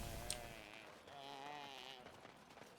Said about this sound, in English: They look like deer, but they sound like goats.